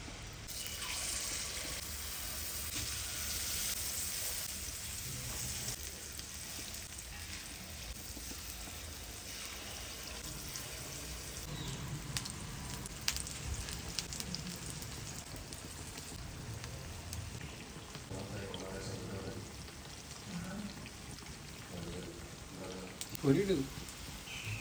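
Unniyappam batter is poured into hot ghee and sizzles with a continuous, fairly soft, rain-like hiss that stays even throughout, with a few brief bubbling pops near the end.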